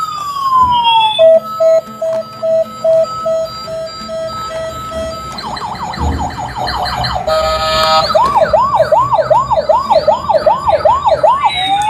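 A toy police car siren, apparently a child's toy vehicle, plays a steady beeping tone before switching to a fast, wailing electronic siren with warbling sweeps that repeats loudly to the end.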